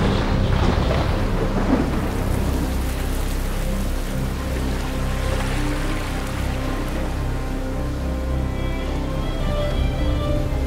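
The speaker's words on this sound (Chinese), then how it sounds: "船长，这雷雨这么大，我们不会被劈吧？" A thunderstorm rages over a cruise ship anchored at sea at night, with a loud rumbling crack of thunder at the start followed by steady heavy rain and dense wash filling the whole stretch.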